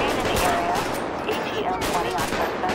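Rapid, continuous gunfire in Grand Theft Auto V during a police patrol mod shootout, loud and close, with overlapping shots and a busy mix of game noise throughout.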